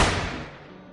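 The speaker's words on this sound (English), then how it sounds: "just edit in the sound of a gunshot right here" A single edited-in gunshot sound effect, one sharp loud crack that fades into a short decaying tail, with nothing else around it.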